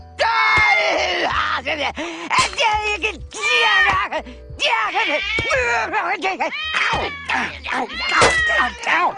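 A cat meows and yowls repeatedly, loud and close, with drawn-out, wavering cries coming one after another.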